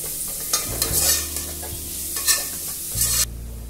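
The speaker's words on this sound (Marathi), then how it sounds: "आता त्याच्यामध्ये कांदा घालायचा आहे। कांदा पण छान परतून घ्यायचा आहे।" Onions sauté and get stirred in a pan for vegetable biryani. A close, loud sizzle runs under repeated scraping strokes of a spoon, and a low hum runs underneath.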